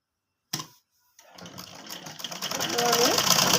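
A sewing machine sews a flat seam on kurti trousers. After a sharp click and a short silence it starts up and runs steadily, growing louder and faster toward the end.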